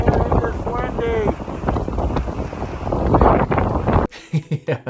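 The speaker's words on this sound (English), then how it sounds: "Just to show how windy it is up here" Strong wind buffets the microphone on a cold mountain top, a loud rumbling gusty roar with a voice faintly underneath, then dropping to broken gusts in the last second.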